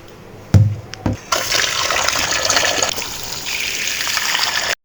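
Water runs from a kitchen tap while koi fish are cleaned, starting after a few brief knocks and then gushing steadily and close, stopping abruptly at the end.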